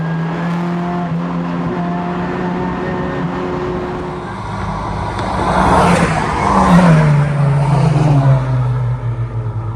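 A car on Bridgestone Potenza Sport A/S tires revs and whines loudly up close, pitch rising and falling as it accelerates and slows through a corner.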